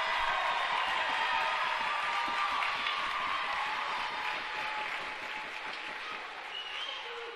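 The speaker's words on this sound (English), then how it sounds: "Crowd goes wild for that young man." A boys high school basketball crowd at a KCD vs Collegiate game applauds and cheers in a steady, loud, sustained wash of clapping and shouts, easing slightly toward the end.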